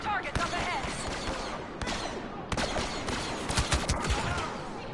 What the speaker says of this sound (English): It's just kind of like a single fire gun